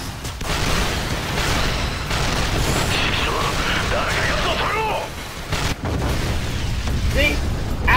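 Missiles explode in the video game Assault Gunner, a run of booming blasts and pops layered over dense mechanical battle noise, with a player talking over it.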